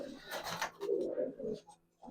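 A silver Giribaz pigeon of an old-generation line coos softly up close in a few low, throaty rolling phrases, with a brief bit of human voice near the start.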